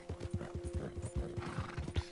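Horse hooves clip-clop in Red Dead Redemption 2, a steady run of close, regular hoofbeats with a faint steady tone underneath, no talking.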